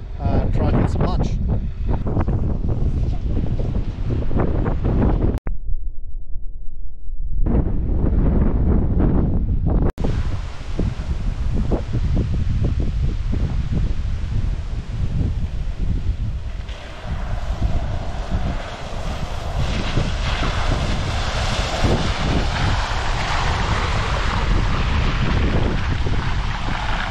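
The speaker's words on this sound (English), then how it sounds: "try and find a nice spot out of this wind" Strong wind buffets the microphone with loud, roaring gusts in the Victorian High Country, continuous and close, briefly dropping to a quieter lull before surging again, with people talking at times.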